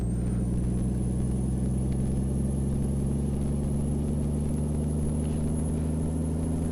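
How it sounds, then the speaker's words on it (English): Steady low engine drone of a Peterbilt 389 truck in Euro Truck Simulator 2, straining under heavy load, continuous and loud with a thin high whine above. "So it's really stressing the engine out. You can hear it."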